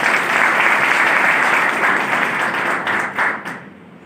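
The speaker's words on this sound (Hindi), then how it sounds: "जोरदार तालियां" Loud, dense applause from a seminar audience at Sanji Morh in Kathua, a sustained wash of many hands that thins and fades away over the last second.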